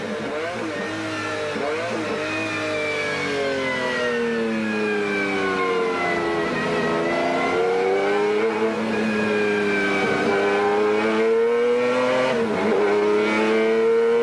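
GT race cars at Silverstone during the 1995 BPR Global GT Series, including a 3.5-litre turbocharged Ferrari V8 and a BMW V12, on a drying track. Engines drone loudly and continuously, with rising and falling revs as the cars pass, and no voices.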